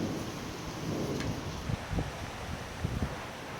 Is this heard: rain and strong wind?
yes